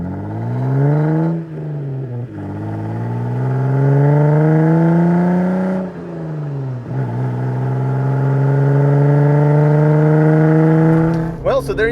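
A Jeep Wrangler engine with a new Flowmaster exhaust revs up and down repeatedly with a deep, throaty exhaust tone, rising pitch on each pull and dropping between, loud and close.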